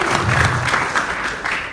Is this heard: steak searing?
no